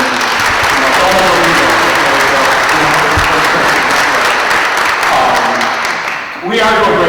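A school audience at a State of the School address claps in a loud, sustained round of applause that stays strong throughout, then briefly dips and picks back up at the very end.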